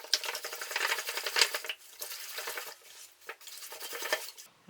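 Eggs are whisked in a bowl, a rapid, quiet clinking and scraping rhythm in uneven bursts, close by.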